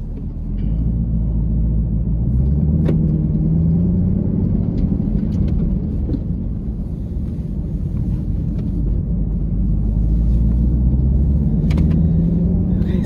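A 2024 Chevrolet Camaro ZL1 Collector Edition out on the road gives a steady, loud low rumble of engine and road noise from inside the cabin, with the pitch rising and falling now and then.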